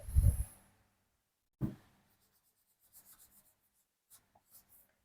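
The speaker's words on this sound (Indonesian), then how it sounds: "Kita hapus dulu." Writing gets erased from a classroom board, heard as two short, scraping rubs, the first longer than the second, followed by a few faint, scattered taps and clicks in an otherwise quiet room.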